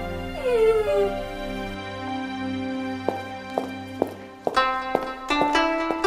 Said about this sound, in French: Yaeko, Masé vient de m'offrir un Akita. Un autre chien?